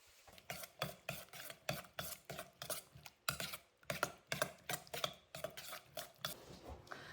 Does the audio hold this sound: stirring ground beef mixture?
yes